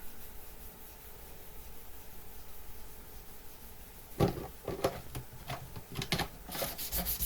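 Stainless steel frets on an Ibanez Prestige RG655 guitar are sanded through abrasive grits. After a quiet stretch of low hum, short rasping strokes start and repeat irregularly, soft and close.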